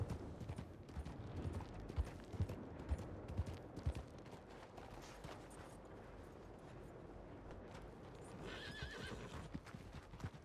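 Horse hooves clip-clopping in a steady rhythm in the GoldRushRP video game, with a whinny near the end, fairly quiet and close.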